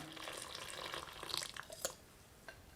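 Warm water poured into a wheat flour batter for sweet paniyaram, a steady soft splashing trickle with a few louder gurgles, quiet and close with no talk.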